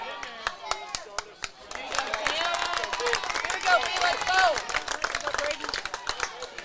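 Spectators at a championship baseball game clap sharply and cheer, with scattered hand claps building into a swell of crowd voices mid-clip, while a person talks over the noise.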